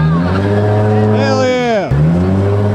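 A car spinning donuts at a car meet, engine revving high and tires squealing in a rising whine that peaks then drops, loud and close, with people cheering and talking over it.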